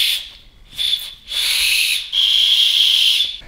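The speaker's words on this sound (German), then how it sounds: "hier ist einfach diese Pfeife im Verschluss drin" A safety whistle built into the buckle of a Cube hydration backpack gives several shrill blasts, short at first and then longer and steadier, loud and close.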